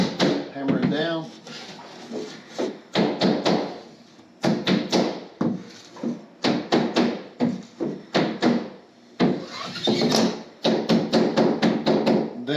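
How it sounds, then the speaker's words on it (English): Sharp, solid hammer blows strike repeatedly in short clusters, hammering down a mobile home batten strip, close and loud, with a person talking between the bursts. "hammer it down."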